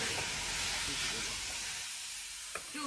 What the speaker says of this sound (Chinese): 我们厨师长已经开始炒菜了，6大熟开始炒肉了